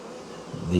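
Honey bees buzzing around an opened queen rearing colony during a hive inspection, a steady near drone that swells louder toward the end.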